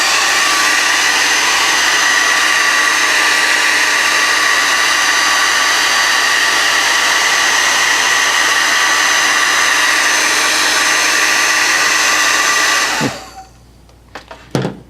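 A handheld hair dryer runs at close range, blowing a loud, steady roar onto wet hair for about thirteen seconds before it is switched off, leaving a few faint handling clicks and a brief rustle.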